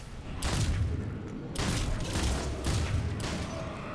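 Repeated loud blasts from incendiary ammunition in the sci-fi shooter Mass Effect 3, three or four booming bursts a second or so apart over continuous low combat rumble.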